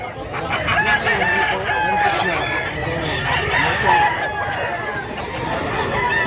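Roosters crow repeatedly and hens cluck at a busy chicken market, the calls overlapping against a crowded background with faint voices.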